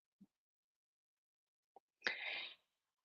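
A single sneeze, short and fairly close, preceded by a couple of tiny faint clicks in an otherwise quiet room.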